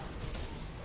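Gunfire from a battle in the shooter video game Singularity, a dense continuous fusillade of overlapping shots that runs through the whole moment at moderate volume, with no voices over it.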